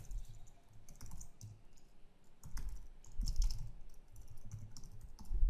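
Typing on a computer keyboard at a coding desk produces a steady run of soft, close key clicks and taps in uneven bursts, with no voices.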